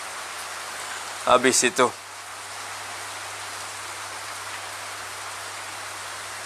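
Rain falls in a steady, even hiss that fills the whole stretch, with someone briefly speaking over it near the start.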